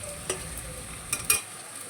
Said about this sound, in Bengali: চলো পেঁয়াজটা ভাজা ভাজা করি